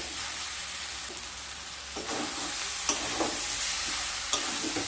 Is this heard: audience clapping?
no